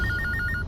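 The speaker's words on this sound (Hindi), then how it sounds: "चलो उठाओ, फोन उठाओ तुम्हारा अभी।" A telephone ringtone sounds with repeated rapid electronic double beeps, loud and close, with low room noise underneath and no talking.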